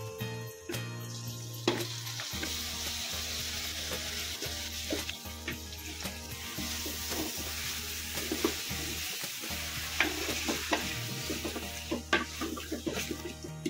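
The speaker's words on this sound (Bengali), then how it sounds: "এবার ম্যারিনেট করা মাংসগুলো দিয়ে দেব।" Marinated country chicken pieces for biryani sizzle and fry with spices in a pan, a steady hiss with occasional stirring scrapes and clinks, close and fairly quiet.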